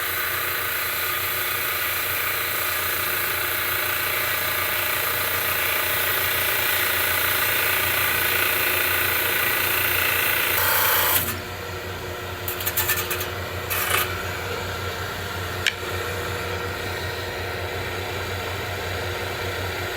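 Rock Rascal trim saw cutting through a rock, a steady grinding whine for about ten seconds that then stops abruptly, followed by a few short scraping and clicking handling sounds over the saw motor's quieter hum.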